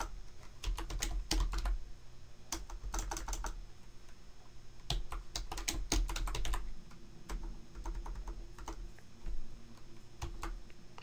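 Keyboard typing in irregular bursts of quick clicks, with pauses between bursts, close and clear with no talking, while building a top-down shooter game for Android in Construct 2.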